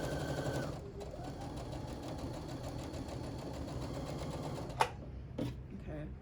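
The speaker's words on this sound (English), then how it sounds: "I'm going to sew down towards this point" Sewing machine stitching half square triangle pieces for a quilt block, a steady continuous motor whir with needle hum throughout, then a couple of brief clicks near the end.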